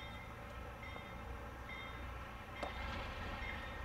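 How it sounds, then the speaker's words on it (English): An excursion orphan train runs along the Falls Road in Knowlesville, New York, on a cloudy spring afternoon, giving a steady, fairly distant rumble of rolling cars that swells slightly toward the end, with no voices. "Excursion orphan train on the Falls Road."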